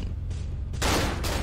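Pistol fire in the horror video game Cry of Fear: two sharp, loud gunshot bursts in quick succession over a continuous low rumble of game ambience.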